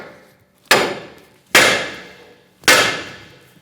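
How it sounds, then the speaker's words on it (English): A sledgehammer strikes a tie rod nut on a 2012-2018 Ford Focus three times, each blow a sharp, loud metallic bang that rings and fades before the next, evenly spaced about a second apart. "I'm going to hit it right here with a sledgehammer."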